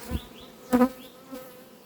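Honey bees buzz in an open beehive, a close, faint hum with passing buzzes and one louder swell, and no one talks.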